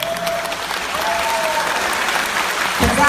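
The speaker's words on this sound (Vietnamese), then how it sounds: "Xin quý vị một tràng pháo tay." A concert-hall crowd at a live show claps in sustained, loud applause, with a faint background tone and a brief low thump near the end.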